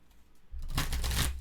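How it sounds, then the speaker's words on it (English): Cards being shuffled, a quiet pause followed by a loud, close riffling burst that lasts about a second. "We'll shuffle these up."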